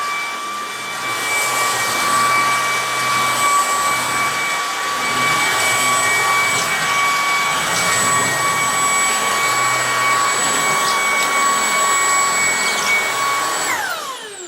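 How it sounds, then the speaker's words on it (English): A Tineco cordless vacuum cleaner runs at full power, a loud steady whine with high tonal hum holding for about fourteen seconds before easing off at the very end. "You can actually feel it sucking to the floor as it's picking everything up."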